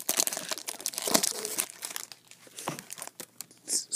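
A Pokemon card booster pack is torn open and crinkled by hand: continuous close, loud foil crackling and ripping for several seconds with brief pauses and a sharp rustle at the end, no voices.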